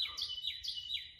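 Outdoors in Georgia, a bird repeats a clear, bright chirp in quick succession, sounding close and fairly loud against a quiet background.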